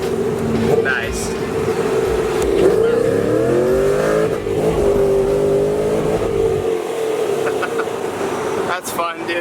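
An LS V8-swapped Nissan 350Z accelerating hard through the gears, a loud sustained engine roar with rising and shifting pitch heard from inside, with people talking over it.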